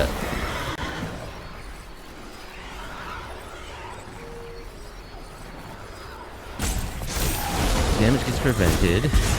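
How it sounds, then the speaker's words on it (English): Horses whinny in Magic: The Gathering Arena amid steady game effects, followed by a louder whooshing burst of sound near the end. "I think they just got too many horses"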